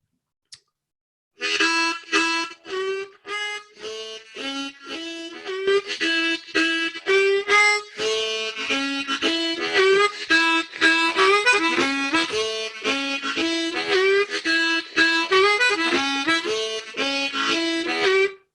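A harmonica plays a rhythmic timing exercise with head-roll accents, a quick steady run of pulsing reedy notes and chords, close and clear with no talking after a brief tap at the start.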